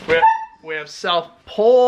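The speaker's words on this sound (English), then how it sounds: "That's the dog that escaped." A dog whimpers and gives short yelping barks in an abandoned storage unit, close and loud in separate bursts, with a person talking.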